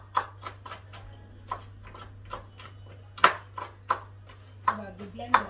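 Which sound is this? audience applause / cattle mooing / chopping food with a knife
chopping food with a knife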